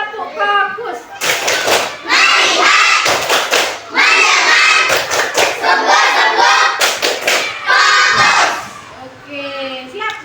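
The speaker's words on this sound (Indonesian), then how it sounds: "Coba kita tepuk fokus." Primary school students in a classroom perform a rhythmic focus clap, loud bursts of patterned clapping and thumps mixed with children chanting and shouting together, close and energetic, with quieter speech at the start and end.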